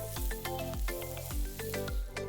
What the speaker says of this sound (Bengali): এবার সব কিছু ভালো করে মিক্স করে নিচ্ছে এই ধরেন আবারও আধা মিনিটের মতো সতে করে নিচ্ছে